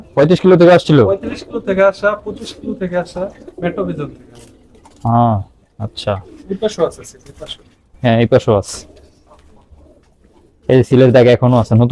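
Khaki racing pigeons coo softly and repeatedly while a person talks nearby, with several pauses in the speech.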